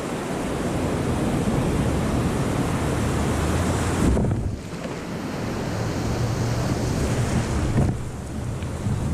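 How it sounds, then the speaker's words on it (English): Ocean waves surge and break around a kayak at sea, a loud continuous wash of surf with wind buffeting the microphone, briefly dipping midway before the roar of rushing water returns. "I struggled to keep my kayak pointed straight into the oncoming waves"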